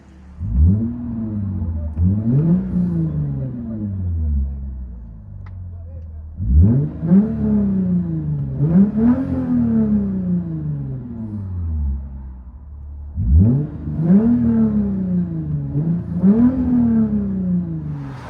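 Straight-piped Lexus IS 250 with a 2.5L engine heard from the cabin, loud repeated revs rising and falling in three clusters with brief lulls between them, no talking over it.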